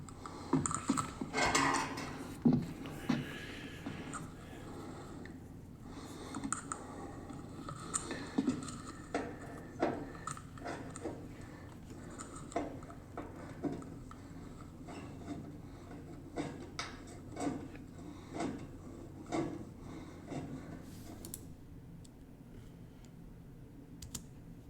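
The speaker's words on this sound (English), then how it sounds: "Now here I'm notching where my 3-inch flange is gonna return up the wall" Metal parapet coping flange being notched with snips, a series of sharp clipped cuts and light metallic clicks at irregular intervals, fairly faint, fading toward the end.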